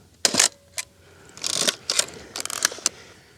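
Mechanical clicks and whirs from a camera as a landscape photo is taken on a hilltop, a few sharp snaps followed by bursts of shutter and mechanism noise, close and without talking.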